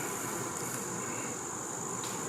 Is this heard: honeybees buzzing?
yes